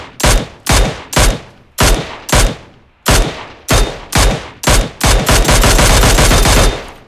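Rapid gunfire in the mobile battle royale game PUBG Mobile: loud bursts of shots in an uneven rhythm, building to a sustained continuous barrage near the end, with no voices.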